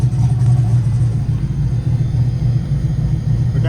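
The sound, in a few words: turbo LS Mustang engine idling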